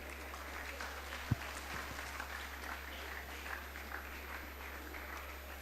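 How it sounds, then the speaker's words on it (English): An audience at a school annual day applauds its students, a steady, fairly distant patter of clapping that carries on evenly under a constant low hum. "Let's give a deserving round of applause for all of them."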